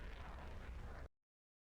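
Missiles detonating in the combat flight simulator DCS World, a single sustained rumbling blast lasting about a second, loud and broadband, then cutting off abruptly to silence.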